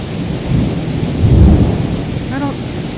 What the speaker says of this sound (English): It's the thunder